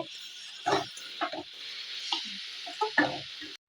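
Leafy greens (shak) frying in a pan give a steady hiss, with several louder stirring knocks and scrapes spread through the clip and no talking.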